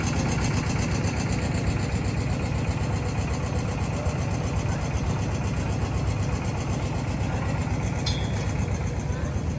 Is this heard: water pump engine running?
yes